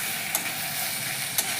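Spice paste for a prawn and yogurt curry frying in a pan, a soft, even sizzle with two brief sharp clinks of a utensil against the pan, close and without talk.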